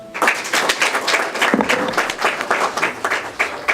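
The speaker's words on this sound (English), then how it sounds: "Another huge round of applause." A crowd gives a round of applause, with many hands clapping loudly and continuously.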